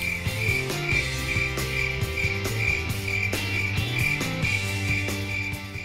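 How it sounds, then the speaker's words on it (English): A cricket chirping sound effect added to a stop-motion animation repeats in quick regular pulses, loud and close, over low tonal background music. "the cricket sound is there now"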